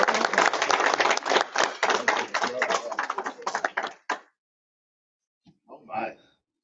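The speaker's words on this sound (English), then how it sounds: "a generous round of applause for Trevor Neff" A room of Rotary Club meeting attendees applauds a speaker, a moderate burst of hand clapping lasting about four seconds before stopping abruptly, followed by silence and a short spoken voice.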